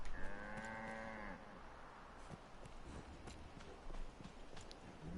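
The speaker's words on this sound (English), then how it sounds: "They don't have normal cows in this world. These are fantasy cows, I guess." A fantasy bison-like cow moos in Dragon's Dogma, one long loud low call at the start, followed by soft hoof clops and footsteps in an open outdoor setting.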